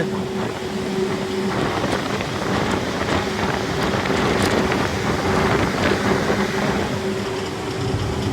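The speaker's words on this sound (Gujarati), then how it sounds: "વરસાદે ચાલુ થઈ ગયો હે ભાઈ" Steady rain falls with a broad hiss that stays constant throughout, mixed with a low rumble and wind-like noise and a faint tonal hum.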